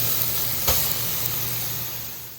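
Grated carrot dropped into hot ghee in a pan, giving a steady, close hiss of sizzling with one brief sharp burst near the start, no voices.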